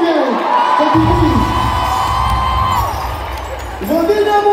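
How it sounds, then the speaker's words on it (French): A large concert crowd at Accor Arena in Paris cheers and shouts loudly, a roaring wash of voices and whoops that swells, dips briefly, then rises again. "Applaudissez pour mon vieux."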